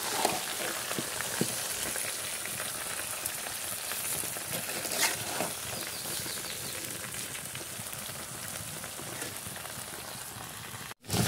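Mango pickle with sugar cooking in a hot pan, a continuous crackling sizzle with occasional stirring knocks, fairly quiet and close, ending in a sudden cut.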